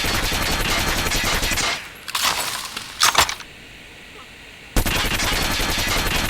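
Rapid automatic gunfire from a weapon in Call of Duty Mobile rattles in loud sustained bursts, broken by a pause and a few shorter volleys before resuming.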